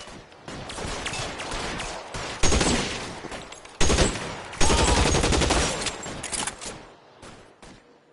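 Gunfire in L.A. Noire: sustained crackling shots with several loud, sharp bursts standing out, close and dense, tapering off into quiet at the end.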